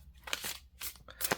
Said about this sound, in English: But I typically shuffle like this.